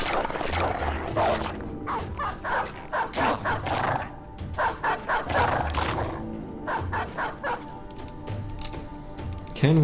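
Dogs in a video game bark in quick repeated bow-wow volleys and sharp yips, close and loud, with short pauses between bursts and a faint tonal hum underneath.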